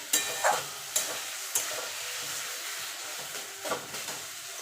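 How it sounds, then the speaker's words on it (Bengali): Taro greens with a hilsa fish head cooking in a pan until the water boils off, giving a soft steady sizzle with a few spoon taps and stirring scrapes, no talking. "এবার এটাকে রান্না করে নেবো যতক্ষণ জলটা ফুটিয়ে না যাচ্ছে"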